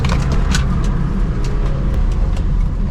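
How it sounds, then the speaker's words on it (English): A Mazda MX-5 engine drones loud and close as the car races around a track, a steady mid-pitched hum under constant load with a few sharp ticks and bursts of wind noise, no talking. "I've done about 700 laps in the Mazda MX-5 and it's holding up beautifully"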